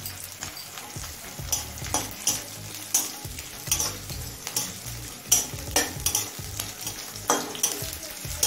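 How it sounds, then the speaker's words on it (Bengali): Black cumin seeds sizzle and fry in a pan with garlic and green chili over medium flame, with steady crackling and repeated stirring scrapes and clinks of a utensil against the pan. "কালো জিরেটা দিয়ে আরও মিনিট 2 ভেজে নিয়েছি।"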